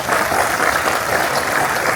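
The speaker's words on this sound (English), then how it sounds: "Let me just ask for one more round of applause for Shepard Fairey." A crowd applauds the artist Shepard Fairey at a public event, the clapping dense, loud and steady across a short burst, close and without any voice on top.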